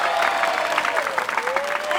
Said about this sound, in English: I need you to give me the biggest round of applause you can give me